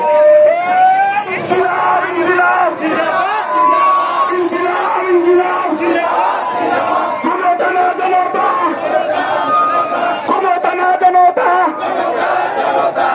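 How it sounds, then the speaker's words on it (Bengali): Large crowd shouting and chanting slogans together at a roadside street rally, dense overlapping voices rising in repeated bursts, loud and continuous with a lead voice calling over the mass. "সবাই একসাথে স্লোগান দিচ্ছি, স্লোগান মুখরিত করছে।"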